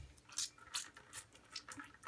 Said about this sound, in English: pretty much getting all the excess water out.